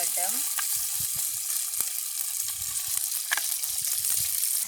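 Onions and green chillies frying in a pan over village cooking heat, a steady bright sizzle running throughout with occasional stirring clinks and scrapes, close and even in loudness.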